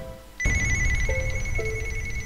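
A telephone ring in a Bioshock-themed Plants vs. Zombies minigame, starting abruptly with bright sustained tones and a rapid trilling pulse, loud and close, with short lower beeps in the middle.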